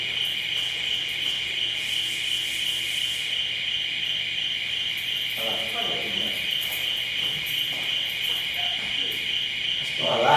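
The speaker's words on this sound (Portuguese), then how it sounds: "Um alarme de incêndio" A fire alarm sounds inside a lecture room, a steady, piercing electronic tone that holds unbroken for the whole stretch, with faint room noise and a few soft rustles underneath.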